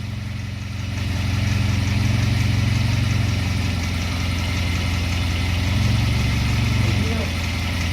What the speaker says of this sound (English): these are chattery motors anyway